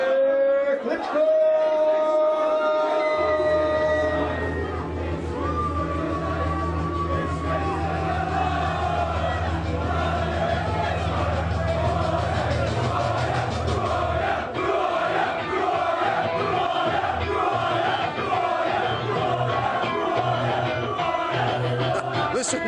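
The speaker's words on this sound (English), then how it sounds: "Listen to the UK fans booing and baiting and hissing Wladimir Klitschko." UK boxing fans at a heavyweight weigh-in loudly booing, baiting and hissing Wladimir Klitschko, a sustained roar of crowd jeers with yells and whistles, continuous throughout.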